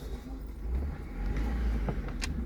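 Traffic rumbles past near a parked Opel Corsa D during an oil and filter change, a low, steady road noise with faint clinks and brief rattles mixed in.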